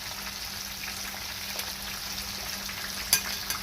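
Spicy peppered turkey wings fry in hot oil with a constant, bright hiss of sizzling and a sharp pop or spatter just after three seconds.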